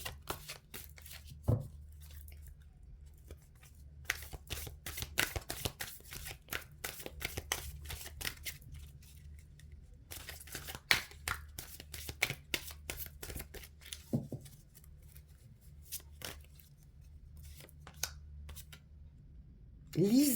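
Tarot cards being shuffled and drawn by hand, a long run of quick papery riffles and soft flicks in uneven bursts, close and crisp, with someone speaking French in between.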